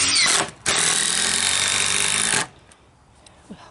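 A power drill drives big screws into the wooden deck frame of a treehouse, with a short burst, then a steady loud whirring run of nearly two seconds that stops abruptly, leaving quiet outdoor background.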